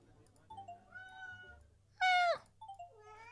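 A cartoon cat meows in the Christmas-themed video game Hidden Cats in Santa's Realm, with one loud, sharp meow over a low background hum and several softer, shorter mews before and after.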